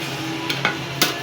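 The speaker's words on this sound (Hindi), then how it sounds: "अच्छी तरह मिक्स करके इसको भी भून लगे" Ground magaz (melon seeds) is mixed and roasted in a hot pan for panjiri, with a low background sizzle and two or three sharp scraping knocks of a spoon against the pan.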